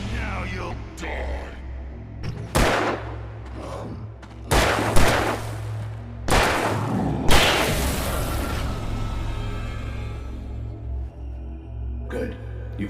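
Gunfire from a gun in Alan Wake Remastered: several loud, sharp shots crack out at uneven intervals, each trailing a long decaying echo over a low rumbling game ambience.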